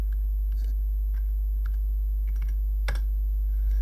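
A password being typed on a computer keyboard, scattered soft key clicks in an irregular rhythm with one sharper tap near the end, over a steady low electrical hum.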